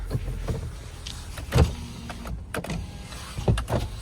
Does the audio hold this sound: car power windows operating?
yes